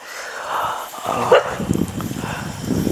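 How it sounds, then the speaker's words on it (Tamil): Near a village temple at night, a dog lets out a few sharp barks and yips, moderately close, over a noisy outdoor background. "இதுக்கு தான் வந்து குலைக்கிறதே தெரில"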